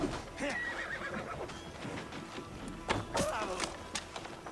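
A horse neighs and whinnies in the video game Assassin's Creed Valhalla, with hoof clops and a second whinny near the end, all heard over game ambience and a faint voice.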